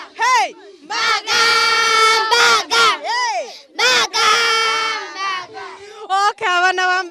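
Schoolgirls at a boarding-school sports day cheer and chant in loud, rhythmic bursts, a crowd of high voices shouting in unison with short pauses between calls.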